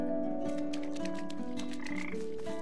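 A frog in the video game PaPo & Yo croaks in a rapid series of raspy calls over a steady tonal background, clear and close with no talking.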